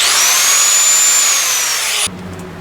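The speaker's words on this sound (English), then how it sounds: "Grinder." An angle grinder whines loud and close for about two seconds during exhaust work on an MGA 1600 roadster, then cuts off and leaves a fading spin-down hum.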